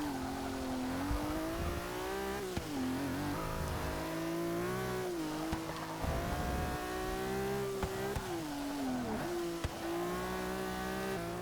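The Datsun race car in Forza Motorsport 6 holds a loud, steady engine howl that climbs and dips as it shifts gears and revs, close and continuous for the whole stretch.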